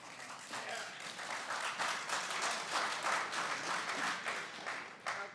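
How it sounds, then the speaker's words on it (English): Audience at a public government committee meeting claps steadily for about five seconds, a moderate, even spread of many hands heard at some distance in the room. "I'm trying to apply the rule of no clapping in between, either side."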